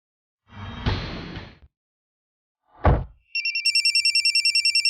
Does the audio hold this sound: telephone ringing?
yes